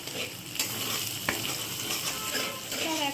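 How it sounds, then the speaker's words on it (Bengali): Two eggs fry in hot oil with salted, already fried ingredients for fried rice, stirred briskly in the pan: a close, steady sizzle with occasional clinks of a utensil against metal. "ওই তেলেই আমি দিয়ে দিচ্ছি 2টো ডিম,"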